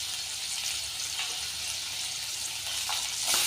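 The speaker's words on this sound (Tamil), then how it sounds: "தக்காளியும் வெங்காயமும் வதங்கிட்டுருக்கு" Onions and tomatoes sautéing with salt in a pan for a white chana curry, giving a steady, close sizzle that holds even throughout and swells slightly near the end.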